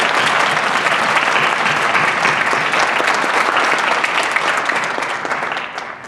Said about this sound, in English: I'd like to give you all a round of applause for being here today.